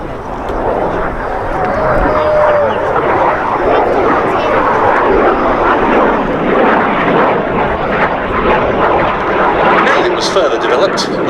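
A BAC Jet Provost jet trainer flies at the Duxford air show, its engine a loud broad roar that swells and holds throughout while a commentator talks over it.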